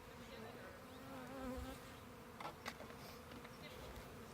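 Honey bees buzz in a steady, dense drone close by, with a few brief louder passes over a faint background hum.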